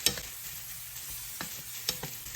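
Zucchini sizzles steadily in a hot pan while a utensil stirs it, with a few scraping clicks against the pan.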